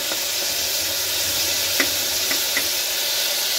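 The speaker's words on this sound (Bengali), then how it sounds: "রসুন ফোড়ন দেবো" Chopped garlic tempered in hot oil gives a loud, steady sizzle close by, with a few light clicks of stirring in the pan.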